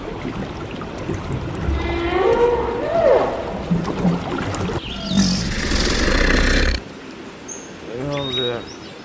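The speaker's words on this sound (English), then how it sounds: "dolphin" A dolphin lets out rising and falling whistles and squeaky chirps over a noisy underwater-like background, ending with a clear run of rapid clicking whistles.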